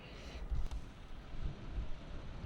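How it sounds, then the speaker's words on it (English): Gusts of wind buffeting the microphone outdoors, a low rumbling whoosh that swells and fades, quiet and without speech. "forgive me, it's a little windy out here"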